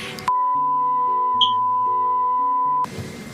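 A long, steady censorship bleep tone holds for over two seconds, masking cursing from a live TV segment, with muffled speech underneath it.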